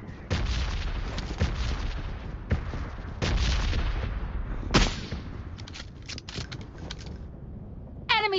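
Bombing-zone explosions in a shooter video game: repeated loud booms and gunfire-like blasts burst one after another over several seconds, then thin into sparser sharp cracks.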